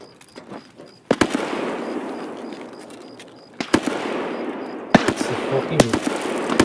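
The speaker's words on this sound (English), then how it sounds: "It sounds like a fucking loud SKS" Loud SKS rifle shots in Escape From Tarkov on the Customs map, several sharp cracks spread across the clip over a constant noisy background, with players talking throughout.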